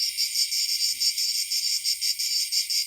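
Brood X periodical cicadas playing back as a recording, a dense, high, buzzing chorus pulsing in steady waves, loud and continuous with no voices.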